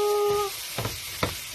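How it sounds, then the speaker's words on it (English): Shrimp and tofu cook in a pan with a soft, steady sizzle, broken by two short scraping clinks of a utensil against the pan. "I'm cooking shrimp with tofu."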